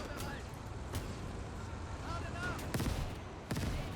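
Mortar fire during a fortress defense battle in the World War II video game Gates of Hell: sharp distant blasts and thuds recurring irregularly against a steady battle din, with other gunfire mixed in.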